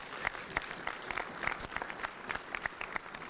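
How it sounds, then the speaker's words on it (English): A community meeting crowd about a highway improvement project gives a round of applause, fairly faint and sustained, with some sharper individual claps standing out. "we need to give them a round of applause, please"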